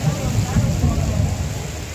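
Heavy night rain pours steadily over San Salvador with a dense, roaring hiss and low rumbling underneath, loud and continuous with no voices.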